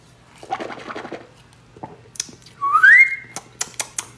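A person whistles once, a short, clear, rising note lasting about half a second. Scattered clicks and light taps come before and after it in an otherwise quiet room.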